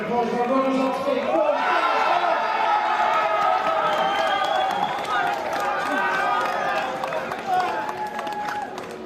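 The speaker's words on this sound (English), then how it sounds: "a huge round of applause for our runners up today" Crowd applause and cheering at a men's grand final trophy presentation, steady clapping mixed with chatter and shouts that fades slightly toward the end.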